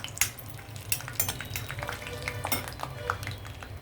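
Peanuts and cashews fry in a pan for tamarind-leaf pulihora, with a soft, steady sizzle broken by frequent sharp clinks of a spoon stirring against the metal pan.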